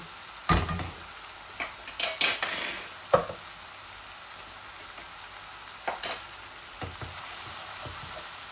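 Shrimp and jackfruit seeds sauté in a pan, a low steady sizzle broken by several scraping, clattering stirs of a utensil against the pan, close and clear with no voices.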